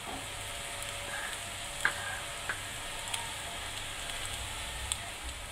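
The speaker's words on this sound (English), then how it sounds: "Keep stirring for some time." Spices sizzling and frying in a kadhai for mushroom masala while being stirred, a steady hiss with occasional clicks of the spoon against the pan, no talking.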